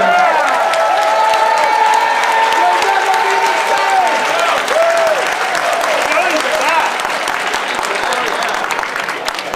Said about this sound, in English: I think the virgins ought to stand up and get an applause from the veterans.